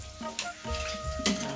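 Puris frying in hot oil in a pan in a village kitchen: a steady, close sizzling hiss with a few brighter crackling bursts and a faint tonal hum underneath, no talking.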